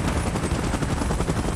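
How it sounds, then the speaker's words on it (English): A helicopter in the video game PUBG Mobile beats with a loud, dense rotor thrum, close and continuous with a rapid pulsing rhythm and no voices. "Chopper in position."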